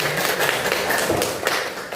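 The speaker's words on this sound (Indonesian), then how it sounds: "Kasih tepuk tangan dulu untuk kelompok 1" A short burst of applause from a classroom group, a few people clapping close together for about two seconds.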